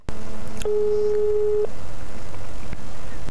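A busy tone on a telephone line while a call goes unanswered: one steady electronic tone lasts about a second, set against a low hum with a few faint clicks.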